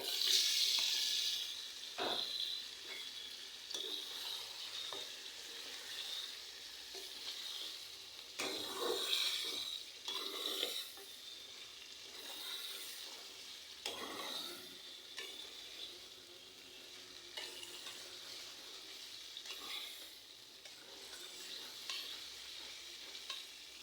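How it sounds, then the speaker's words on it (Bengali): Chicken pieces fry in a spiced masala and are stirred repeatedly, giving a soft, close sizzle with intermittent scraping swishes of a utensil against the pan over about twenty seconds, no talking. "আমি চিকেনগুলো ভালো করে কষিয়ে নেব।"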